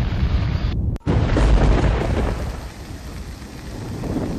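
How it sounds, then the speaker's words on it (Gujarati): A heavy monsoon downpour in Dharampur, Valsad, Gujarat makes a loud, dense, continuous roar of rain with a deep booming rumble running underneath it. "તો વલસાડના ધરમપુરમાં પણ ધોધમાર વરસાદથી નીચાણવાળા વિસ્તારો બેટમાં ફેરવાઈ ગયા"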